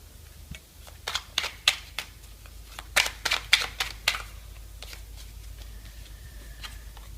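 Oracle cards for a colour reading are riffled and handled up close, producing quick clusters of crisp snapping and flicking bursts that trail off into faint room hush.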